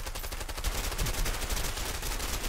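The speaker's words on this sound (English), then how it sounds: "where we take machine guns and just slaughter a wooden house" Machine guns fire at a wooden house in A Way Out, a rapid continuous rattle of automatic fire with steady pulsing bursts and no talk.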